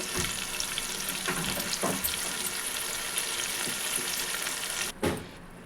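Spice masala cooking down in oil in a pan for a fish curry, a continuous bright frying sizzle with a few stirring scrapes and a sharper clatter near the end.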